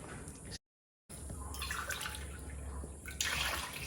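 Water pours steadily into a pot for pickled beetroot brine, a continuous close splashing stream that briefly cuts out, then resumes and swells louder near the end.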